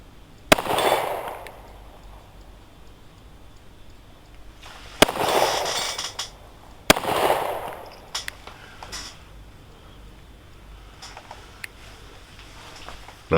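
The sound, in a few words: 9mm gunshots from Staccato C DUO pistol hitting steel plates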